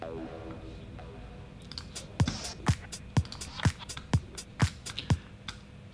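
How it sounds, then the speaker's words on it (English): A synthetic acid-style effect with sharp, evenly spaced clicky hits that ring out with reverb and echoing delay, starting after a soft tonal intro. "And I put a small acid FX"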